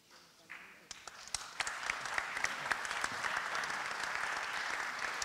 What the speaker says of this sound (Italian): L'applauso è un saluto, di cui ringrazio.